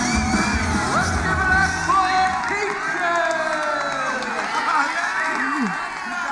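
A large crowd yells, whoops and cheers for a female performer, many overlapping excited voices rising and falling in a sustained roar.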